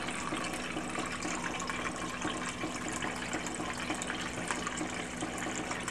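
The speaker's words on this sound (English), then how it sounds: "And then I just fill this up with some filtered water." Filtered water runs steadily from a kitchen faucet into a container, a continuous close gushing stream with no pauses across the whole stretch.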